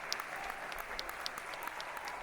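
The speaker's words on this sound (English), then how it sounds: "Give them a big round of applause." Audience claps at a gala concert, a brief burst of dense applause from a crowd, even and sustained without voices.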